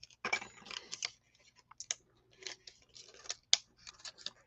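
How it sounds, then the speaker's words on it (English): Scissors snip and crunch through the plastic packaging of small magnets in a close, quiet series of irregular cuts and clicks, with short pauses between bursts. "So I do use scissors on them."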